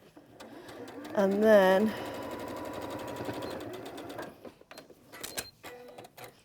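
A sewing machine runs in short stitching bursts on the final seam of a Christmas craft foot pad, its rapid mechanical whirr rising briefly and then thinning out, with someone talking over and between the runs.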